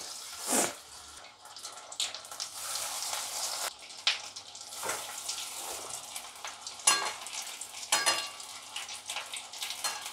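Bhetki fish koftas fry in hot oil, a crackling sizzle punctuated by bursts of spattering and clatter as pieces are dropped in and stirred, fairly close and with no voices.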